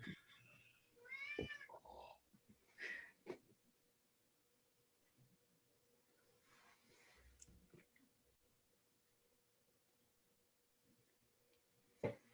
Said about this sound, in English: I apologize for the cat meowing.